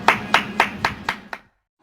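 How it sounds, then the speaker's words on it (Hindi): Six sharp, evenly spaced claps or slaps ring out close by at a student unemployment protest where people beat steel plates. They are loud and alone, then stop abruptly. "बेरोजगार साथियों के लिए ताली और थाली, एक बार मोदी जी के लिए तो एक बार बेरोजगारों के लिए भी बजनी चाहिए।"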